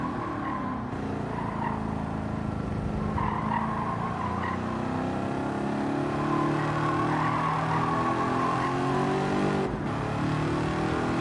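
A race car in Gran Turismo 7 holds a continuous loud engine drone with shifting revs and tire squeal through cornering, steady and close for the whole stretch.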